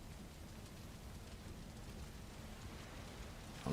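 Steady rain in a fantasy video game world, a constant soft hiss of falling water with no voices.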